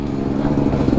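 A Beta 300RR two-stroke off-road motorcycle engine drones steadily up close, a continuous, strained low hum with rattling mechanical texture on basic trail terrain.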